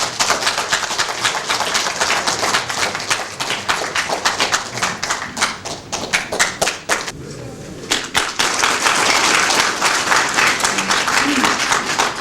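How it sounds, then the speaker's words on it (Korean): Audience at a civic group's Gwangju declaration event applauding to welcome a speaker to the stage, loud sustained clapping from a crowd with a brief lull in the middle before the applause swells again. "먼저 신광조 회장님 나오실 때 큰 박수로 맞이해 주시면 감사하겠습니다."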